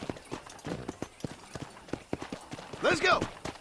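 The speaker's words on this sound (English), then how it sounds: "let's see if you can still ride a horse" Horse hooves clip-clop in a steady riding rhythm in the Red Dead Redemption video game, with a whinny near the end, all under ongoing talk.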